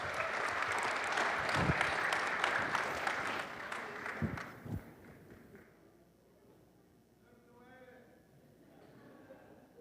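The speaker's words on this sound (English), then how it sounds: "Now we'll give him a round of applause." A summit audience applauds in a dense wave of clapping that fades after about five seconds. A few louder thumps stand out, and speech and murmur continue faintly afterward.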